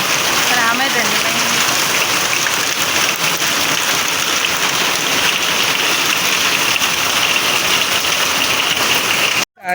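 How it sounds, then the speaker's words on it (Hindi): Heavy rain pouring down hard in a loud, dense hiss that holds steady throughout and cuts off abruptly at the end, with a voice briefly audible near the start. "बहुत तेज वाली बारिश आ रही है"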